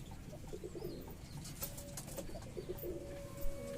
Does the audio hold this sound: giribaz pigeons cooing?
yes